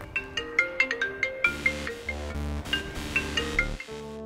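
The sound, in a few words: mobile phone ringtone ringing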